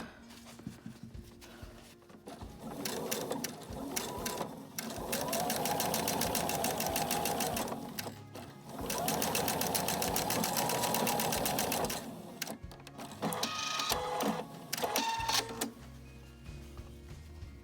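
Close, steady sewing machine runs stitch along a placket edge in several long bursts of rapid clatter, separated by brief pauses.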